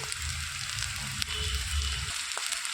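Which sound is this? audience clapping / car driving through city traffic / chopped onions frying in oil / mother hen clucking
chopped onions frying in oil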